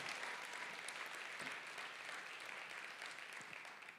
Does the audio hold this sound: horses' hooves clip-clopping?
no